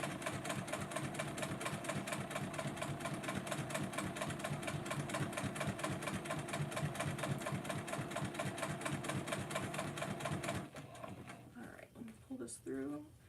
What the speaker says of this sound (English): The sounds that your sewing machine makes you'll get used to